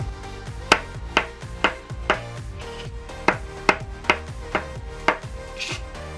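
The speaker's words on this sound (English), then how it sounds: "Then I go ahead and I chop my onions." A knife chops white and red onions on a cutting board in a home kitchen, about a dozen crisp, fairly even strokes close by, with no talking.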